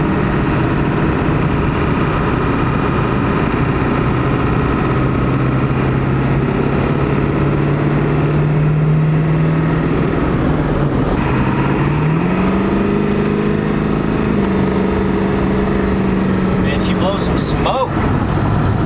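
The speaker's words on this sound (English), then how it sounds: "We're just warming it up so we can get the transmission warmed up, fluids and stuff." A 7.3L Powerstroke diesel truck engine idles while warming up, a steady loud rumble with a low drone whose pitch shifts slightly midway.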